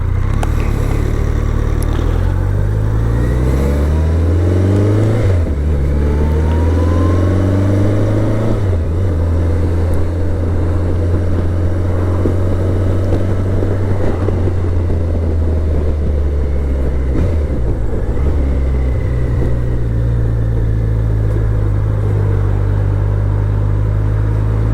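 A BMW motorcycle engine drones steadily while riding out on the road, a loud continuous low rumble with shifting pitch as the revs rise and fall, wind noise mixed in, no talking.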